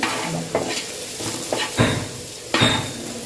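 Beetroot fries in a pan as a utensil stirs it, with a steady sizzle and sharp scraping strokes against the pan roughly every second, up close and without talk.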